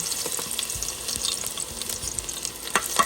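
Garlic frying in very hot oil for Filipino pakbet gives a loud, close, steady crackling sizzle with scattered pops and a few sharper spits toward the end, no talking.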